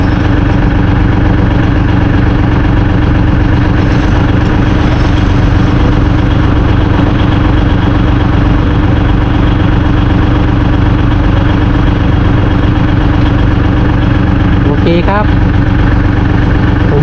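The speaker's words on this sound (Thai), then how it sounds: "ก็จะไถตามอาจารย์ขิมไปเรื่อยๆ ครับ รถไถผมคันเล็กครับ" A small tractor engine chugs steadily and loudly up close while ploughing a field after rain, a continuous rattling drone that barely changes throughout.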